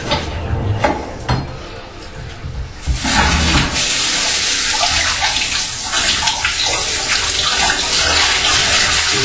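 Cold water gushes steadily into a bathtub, loud and continuous after a quieter opening with a few clinks and faint sounds, then a sustained rushing flow.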